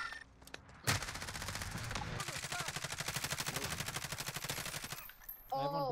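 Rapid automatic gunfire in Call of Duty Warzone runs in a steady stream of close bursts with a few single shots, while players talk over it.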